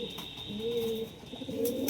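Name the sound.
pigeons cooing in a loft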